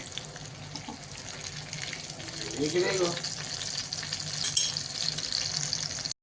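Fish frying in a pan at home, a continuous moderate sizzle with splashy, watery crackle, a brief voice partway through, ending abruptly.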